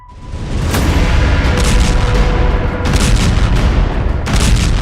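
Explosions from Russian drone strikes in Ukraine come as heavy, sustained rumbling booms, with loud blasts rolling one into another and several sharper bursts standing out above the continuous roar.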